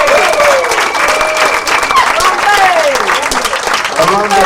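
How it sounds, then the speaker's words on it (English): Audience applause at a discussion session, steady clapping throughout with prominent voices speaking and calling out over it, including rising and falling tones near the front. "round of applause"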